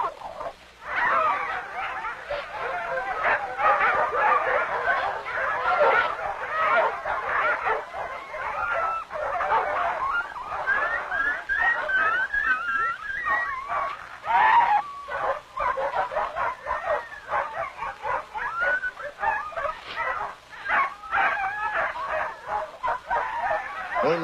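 A pack of sled dogs fights in a snarling brawl, with continuous overlapping barks, yelps, growls and whimpers, loud and chaotic throughout.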